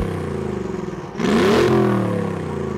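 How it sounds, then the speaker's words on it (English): AMG twin-turbo V8 in a 6x6 off-roader revs hard, a steady idle rumble jumping into a loud rising roar about halfway through, then holding a high throaty drone. "it does have that AMG twin-turbo V8,"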